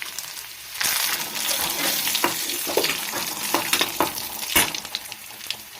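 Browned onions and cut dried red chillies sizzle in hot oil in a pan, the hiss starting suddenly and running steady and close, with spoon clinks and stirring scrapes scattered through and no voices.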